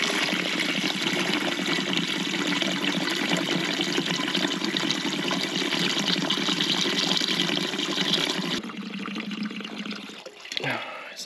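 Water pouring steadily into a pot for pasta at a campsite, a continuous close rushing fill that stops near the end with a few trickles and handling sounds.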